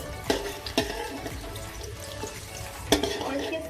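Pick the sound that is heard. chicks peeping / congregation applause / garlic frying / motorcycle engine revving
garlic frying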